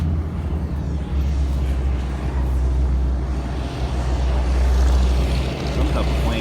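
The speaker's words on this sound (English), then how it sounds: "Some type of plane about to take off." Plane on the ground preparing to take off beside a B-17 Flying Fortress, a loud low steady engine and propeller drone, with some outdoor noise and voices in the background.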